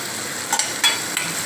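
Ingredients sauteing in a pan for a roasted brinjal dish, a steady sizzle broken by a few sharp scrapes and clinks of a spoon stirring against the pan, no speech.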